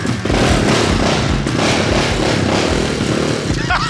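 Amazon-bought 300 cc dirt bike engine starting up and running loud and close, a rough continuous mechanical roar with clatter, steady throughout with no speech.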